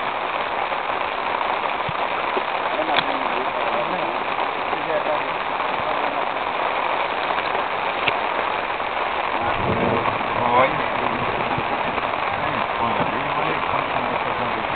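Steady rain patters and hisses in a constant wash, with a faint low rumble and occasional voices murmuring underneath.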